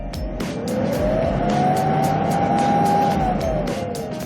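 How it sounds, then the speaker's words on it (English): Engine of a Hyundai Porter Super Cargo light truck revving up smoothly, with one steady rising and falling rev sweep held close and loud over about four seconds, no talking. "The RPMs go up very smoothly."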